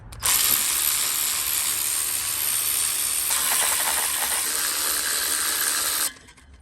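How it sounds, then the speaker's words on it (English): A tool fitted with a 5mm Allen bit backs out bolts from the alternator casing on a Mercedes R129 500SL, giving a close, loud, continuous mechanical whirring hiss for about five and a half seconds before stopping abruptly. "we're gonna use a 5mm Allen key to get all of these off"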